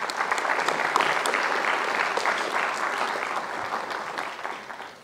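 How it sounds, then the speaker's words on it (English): An audience at a speaking event breaks into sustained applause, a dense, even clapping from many hands that holds steady and then tapers slightly at the end. "Round of applause."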